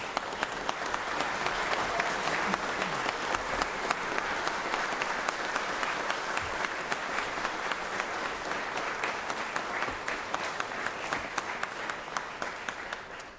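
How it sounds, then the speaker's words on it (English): A large gathering gives a sustained round of applause in the Georgia Senate chamber, dense steady clapping that fills the room for over ten seconds. "let's stand and give them a big round of applause"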